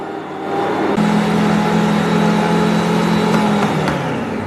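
Electric mixer running at high speed through bread dough, giving a loud, steady motor whir with a constant tone that holds unbroken close by, without any talk over it.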